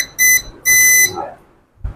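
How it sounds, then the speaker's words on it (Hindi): A multimeter in buzzer continuity mode sounds two loud, steady electronic beeps as its probe touches a pin on a Samsung SM-A125 phone connector, followed by a soft handling thump. "हाँ जी, ये इसके साथ बीप कर रहा है"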